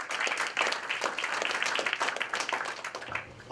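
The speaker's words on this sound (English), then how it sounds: "Give him a big round of applause." A forum audience applauds a candidate walking up to speak at a political candidate event, with steady, fairly faint clapping running throughout the few seconds at a moderate distance.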